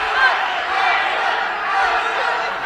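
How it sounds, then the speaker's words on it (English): A boxing crowd at an international amateur tournament in Sheffield keeps up a steady, massed chant, a dense wash of voices filling the arena, with commentary talk layered over it. "They're chanting all around us."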